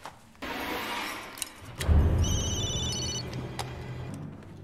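A telephone rings in a movie scene. Bursts of a bright electronic ring follow a thump and rumble, and the ringing comes through clearly with no talk over it.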